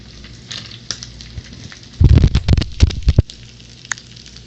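Onions go into a hot pan to fry for a chicken rice burrito, and a loud burst of crackling sizzle rises sharply and then settles down within about a second, with faint clatter around it.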